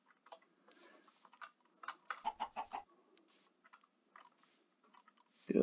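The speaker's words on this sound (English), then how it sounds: "There's a chicken there." A chicken clucking in Minecraft: a series of short clucks in irregular bursts, moderately near, with a sharper burst at the end over faint ticking sounds.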